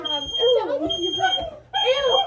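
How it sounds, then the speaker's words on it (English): A smoke alarm goes off in a kitchen while salmon with roasted vegetables is being cooked, giving loud repeated electronic beeps close by, with a voice talking over it. "That's the fire alarm."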